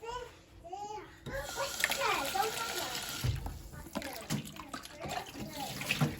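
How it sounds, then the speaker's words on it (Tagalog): Small fish called kabok being rinsed in water before slicing for kinilaw, with close splashing and trickling mixed under steady conversation and a voice. "Hugasan natin yan mga kabok ng tubig."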